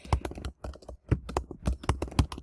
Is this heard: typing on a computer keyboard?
yes